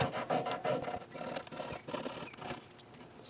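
A small piece of sandpaper scrubs dirt off the frets of an Ibanez Jem Jr electric guitar, giving quick, close, repeated raspy rubbing strokes at a soft level.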